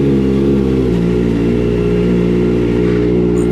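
A Kawasaki ZX4RR motorcycle engine runs loud and close with a steady, buzzing mid-pitched drone, rising slightly in a brief rev partway through.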